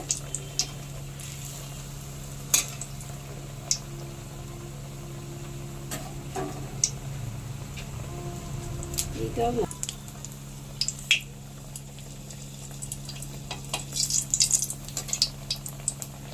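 Malpua batter puffing up as it fries in hot oil, a sweet made for Janmashtami. A steady low sizzle carries on, dotted with light ticks and clicks and a brief swell of bubbling midway.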